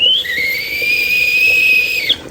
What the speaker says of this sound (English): it usually whistles, and I don't like that whistle